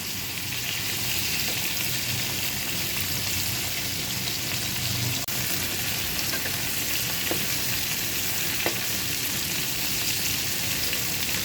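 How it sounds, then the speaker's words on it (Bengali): Prawns frying in a pan, a loud steady sizzle that runs unbroken throughout, with a few faint clicks of utensils and no talking. "চিংড়ি মাছ কীভাবে মগজটাকে অক্ষুণ্ণ রেখে ফ্রাই করবেন"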